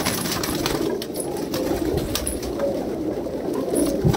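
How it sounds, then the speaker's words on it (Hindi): Desi Punjabi Madrasi high-flyer pigeons cooing in a shop, a steady dense murmur of low coos from many birds close by, with faint higher chirps and no talk. "देसी पंजाबी मद्रासी हाई फ्लैक्स बहुत अच्छे कबूतर है भाई"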